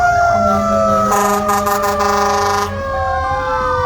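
A Beaumont fire engine rolling in a Christmas parade sounds its wailing siren loudly and close, with sweeping rising and falling tones layered over a low engine rumble and a brief blaring horn burst midway.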